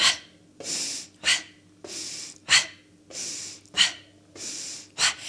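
Rhythmic pumping breaths during a gyrokinesis hip mobility exercise: forceful, breathy inhales and exhales alternating in a steady pattern about once per second, loud and close, with no talking.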